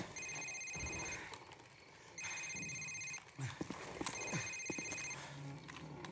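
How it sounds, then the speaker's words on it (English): A cell phone rings in Call of Duty 4 Modern Warfare, three evenly spaced bursts of an electronic trill, moderately loud over game background sounds and scuffling. "Sir, it's his cell phone."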